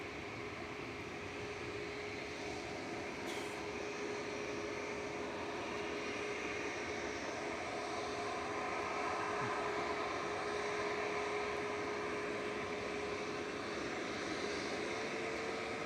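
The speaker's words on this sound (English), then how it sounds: "And this is Ryanair heading off to Alicante, 737 MAX 8 200." A Ryanair Boeing 737 MAX 8-200 bound for Alicante takes off from Manchester Airport, a steady distant jet roar with a sustained whine that holds evenly throughout.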